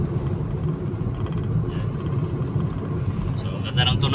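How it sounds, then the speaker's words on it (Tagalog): A steady, low engine rumble from a Geely Okavango 1.5L runs without a break from start to finish, close by and fairly loud, with no pauses or revs. "Ganda ng tunog nating makina, so hindi na siya masyadong vibration"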